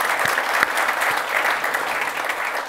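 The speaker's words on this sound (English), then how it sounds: "can we just give all the team that made this possible a massive round of applause?" Audience applause for a business team at an event, a steady dense wash of clapping from a crowd, fairly close and sustained without a break.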